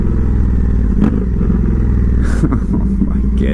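An Indian FTR 1200 V-twin motorcycle with a full Toce exhaust and tune revs up close, a loud, deep, steady engine drone with a few sharper blips and clatter.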